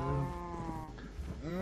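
Cows moo in the video game Minecraft, a few drawn-out low bovine calls one after another over a quiet game background.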